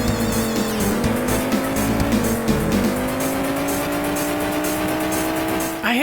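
Cars drifting around corners in the Amiga racing game ATR: a sustained buzzing engine drone with rising pitch and squealing tyres as they slide, loud and continuous, ending in a sudden burst.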